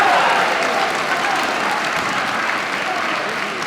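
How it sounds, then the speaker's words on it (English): Loud, close crowd applause with shouts at a men's wallball national final, a thick sustained wave that eases slightly toward the end, with voices mixed into the noise. "The crowd were a little bit quick to shout in there before Connor had picked the ball"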